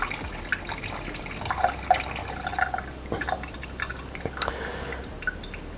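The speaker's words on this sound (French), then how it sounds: "vous pouvez aussi laisser couler simplement un filet," A thin stream of water trickles and drips into a filter cartridge being refilled to keep it full, giving soft, irregular splashes and drips over a low steady hum.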